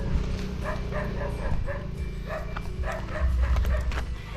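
Several dogs bark and yip in short bursts outdoors, close and fairly loud, over a low background rumble.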